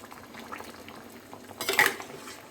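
Shukto, a Bengali mixed-vegetable curry, is stirred in a pot, with soft bubbling and faint clinks throughout and a brief louder scraping burst of the spoon against the pot near the end.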